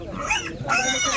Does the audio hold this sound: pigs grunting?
yes